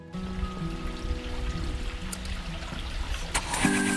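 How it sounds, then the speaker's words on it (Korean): Water from Suok Falls in Goesan runs down a rock wall, a steady close trickling flow with faint tonal background sounds layered over it. "석벽을 타고 흐르는 시원한 물줄기"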